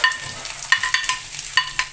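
Whole spices (bay leaf, cardamom, shahi jeera, cloves) frying in oil and ghee for chicken donne biryani, a close steady sizzle broken by sharp clinks and scrapes of stirring at irregular intervals, with no talking.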